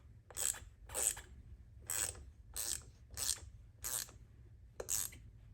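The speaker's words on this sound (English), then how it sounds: "Now my power ratchet also works as a hand ratchet." A power ratchet worked by hand as an ordinary ratchet while tightening bolts on an Apollo Ghost electric scooter, giving seven close, evenly spaced bursts of rapid clicking strokes.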